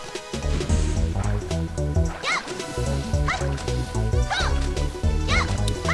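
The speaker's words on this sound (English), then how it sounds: "I just decided to blitz through the water because I didn't want to platform again" A character wades and splashes through water in the Mystical Ninja Starring Goemon game, with sloshing footsteps over busy looping game music and chirpy sound effects, while someone talks over it.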